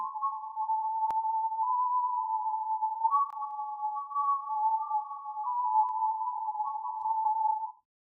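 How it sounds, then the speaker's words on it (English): A thin, steady whistling tone rings continuously, wavering slightly in pitch, with a couple of faint clicks, then cuts off abruptly. "So you hear kind of a whistling sound, and that is the strongest resonance."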